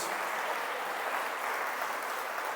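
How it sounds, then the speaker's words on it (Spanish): A church congregation applauding after a scripture reading, a steady, even wash of many hands clapping at a fairly quiet level, with no voices above it. "Denle un aplauso a esta palabra de Dios"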